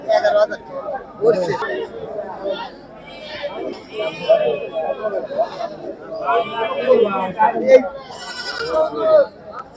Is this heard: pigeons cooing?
no